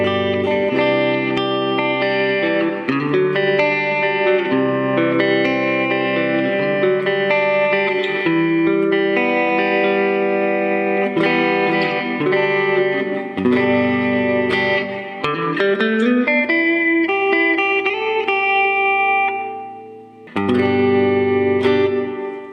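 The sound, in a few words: guitar through Digitech Digiverb pedal hall reverb, mix up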